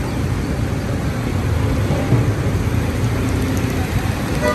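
Heavy rain falling on a flooded Karachi street near the Johar underpass, a steady broadband wash with low traffic rumble running continuously, loud and close without pause.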